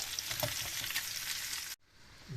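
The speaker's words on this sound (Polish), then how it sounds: "I teraz na małym ogniu dusimy tą całość, smażymy" Bacon and sausage sizzle and crackle steadily in a hot pan, loud and close, then the sound cuts off abruptly near the end.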